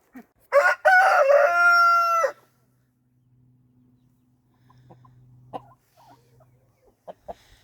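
A rooster crows loudly once nearby, followed by quiet clucks and scattered soft chicken sounds in an otherwise still setting.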